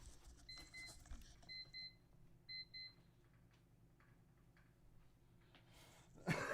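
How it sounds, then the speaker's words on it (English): Electronic alarm beeping in a quiet room, three short high double-tone pulses in a row, faint against low background hum, followed by a soft rustle and a louder knock near the end. "Jeez, my alarm's going off."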